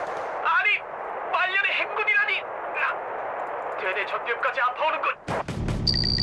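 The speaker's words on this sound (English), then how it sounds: "Artillery coming in on us" Artillery fire in Wargame: Red Dragon booms and rumbles under someone talking, followed by a sharp, loud burst of shelling near the end.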